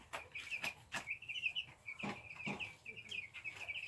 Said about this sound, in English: Poor little chickens.